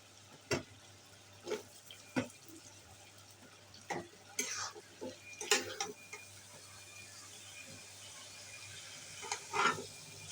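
Cut potatoes and fish frying in a pan, a soft sizzle under scattered sharp scrapes and knocks of a spoon stirring, close and fairly quiet.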